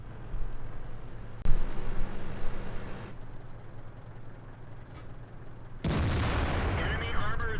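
A tank's main gun fires in World of Tanks, a single sharp boom over a constant engine rumble, followed a few seconds later by a louder burst of impact and crackling noise.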